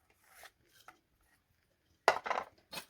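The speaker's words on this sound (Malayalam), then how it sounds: "കുക്കുംബർ അതിലേക്ക് കട്ട് ചെയ്തിടാം" A knife cuts cucumber into pieces that drop into a mixer jar. Soft, scattered chopping taps come in two short clusters separated by a quiet gap, and the sound is faint overall.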